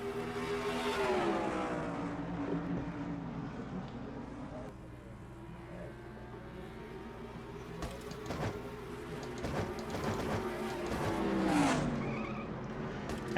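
A race car in a stock car racing video game spins out coming off turn 2 at Richmond, tires squealing over droning engine notes that rise and fall, with other cars whining past and a voice talking over the action.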